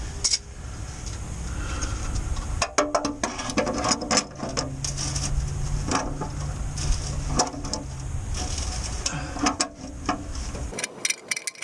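Vise grip ratcheting and clicking against the nut on the dipstick tube of a 2003 Ford Excursion 7.3 diesel, close up. The metallic clicks come in irregular bursts over a steady low background hum, with no talking.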